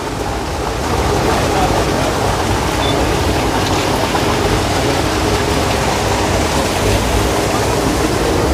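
Heavy water rushing and churning into a canal lock chamber as a boat rises, a loud steady roar that holds without a break throughout.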